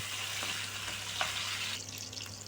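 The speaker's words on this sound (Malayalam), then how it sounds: "അപ്പോൾ ഇത് ആ ചുവന്നുള്ളി ഇട്ട് നമ്മൾ വഴറ്റണം." Shallots sauté in hot sesame oil for a brinjal curry, a loud, continuous close-up sizzle with faint scraping from stirring.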